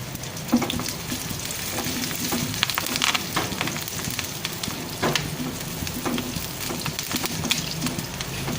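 Curry leaves fry in hot oil with a dense, crackling sizzle, sharp spattering pops scattered over a continuous frying hiss, close and fairly loud with no voices.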